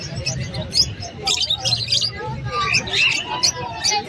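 A yellow face opaline dun fallow pet bird, a parakeet, gives repeated high bright chirps and tweets over a background murmur of people talking nearby.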